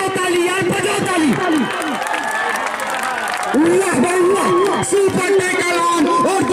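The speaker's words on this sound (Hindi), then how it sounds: "बजाओ ताली यार, बजाओ ताली।" At a Pro Kabaddi tournament match, a crowd claps and cheers in a steady patter beneath a loud, excited commentator who talks all the way through.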